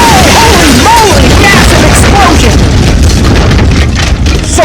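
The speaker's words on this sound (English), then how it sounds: "Massive explosion!" Loud, dense crash-and-boom explosion effect during a Hot Wheels diecast El Camino race, a sustained roaring burst with rumble, lasting several seconds amid race commentary energy.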